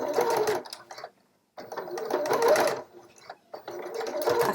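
A sewing machine topstitches a straight edge along layered scrub fabric, running in three steady, close motor bursts separated by brief silent gaps.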